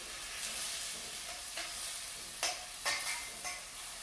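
Pickled pepper rings and Kalamata olives from a jar drop into a frying pan of hot olive oil, giving a steady close sizzle with two sharper hissing bursts as they land.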